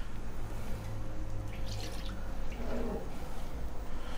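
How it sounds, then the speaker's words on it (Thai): 500 grams of coconut milk poured into a pot over the heat for a Thai fermented fish dish, a soft liquid pouring and dripping sound against a steady background hum. "เดี๋ยวเราใส่กะทิลงไปได้เลยนะกะทิตัวนี ้500กรัมนะครับ"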